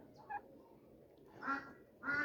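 A few quacks from ducks, three short calls spaced apart, fairly faint over a quiet background.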